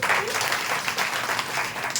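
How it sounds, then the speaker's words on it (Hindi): Audience at an RCM business seminar breaking into steady, dense applause, many hands clapping at once throughout, moderately loud and fairly close, with no talk over it. "आप एक बार ताली बजा दीजिए"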